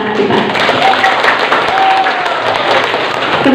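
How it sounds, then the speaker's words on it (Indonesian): Loud, sustained applause for graduating children at an Islamic primary school farewell ceremony, a dense crowd clapping close by with a few faint voices mixed in. "Tepuk tangan untuk anak-anak kita."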